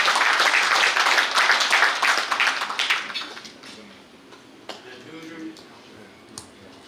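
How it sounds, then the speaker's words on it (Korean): Audience applause at a 25th anniversary ceremony for a news outlet, loud broadband clapping for about three seconds, then dying away into scattered claps and room noise. "장관님께 다시 한번 뜨거운 박수 부탁드리겠습니다."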